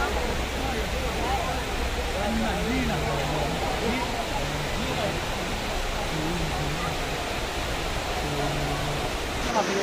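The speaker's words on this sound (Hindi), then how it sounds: "तो ये रहा वो वाटरफॉल" The indoor waterfall at the Dubai Mall pours with a constant broad rushing wash while someone talks over it.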